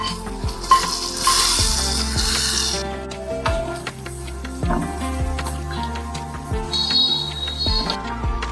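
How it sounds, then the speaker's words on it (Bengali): Spices, dried chillies, chopped ginger and onion sizzle and fry in hot mustard oil in a pan for a dal tempering, with a loud hiss at first, then softer crackling and metallic stirring scrapes against the pan. "প্যানে সর্ষের তেল গরম করে দেব কিছুটা পাঁচফোড়ন, শুকনো লঙ্কা, কুচনো আদা, পেঁয়াজ আর কিছুটা কাশ্মীরি লঙ্কার গুঁড়ো দিয়ে ভালো করে ভেজে ডালের ওপর"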